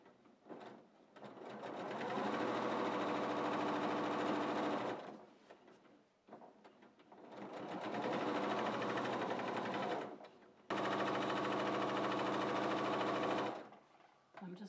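A sewing machine stitches the seams of a quilted wall hanging with a 1/4 inch seam allowance, running in three long steady bursts separated by short pauses, close and loud.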